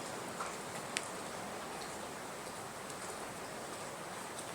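Rain falls outside, making a faint, steady hiss with scattered soft ticks and drips, heard quietly and alone without any voices.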